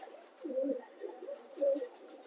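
Soft, throaty pigeon cooing in two close bursts, moderately near, with faint background noise and no talking.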